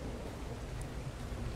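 Steady rain falling in the survival game ARK Survival Evolved, a dense, even wash of noise with no break and no voices.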